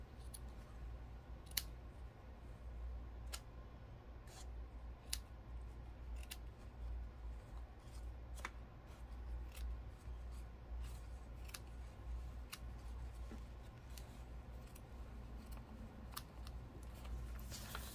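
Scissors snipping sequin trim for a junk journal page, a series of small sharp clicks at irregular intervals over a faint low hum, very quiet and close.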